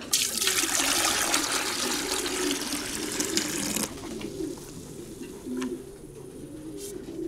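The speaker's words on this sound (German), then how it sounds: "Ein Liter Wasser drauf." A liter of water poured into a container, heard as a steady close splashing gush for about four seconds that then cuts off, leaving softer trickles and dribbles, with pigeons cooing in the background.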